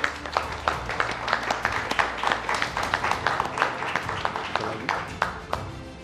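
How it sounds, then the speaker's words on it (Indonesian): An Indonesian event venue crowd gives applause during a formal signing ceremony, with distinct individual claps ringing out in a busy, uneven rhythm over a low hum of background chatter. "Boleh tepuk tangan yang ada di venue"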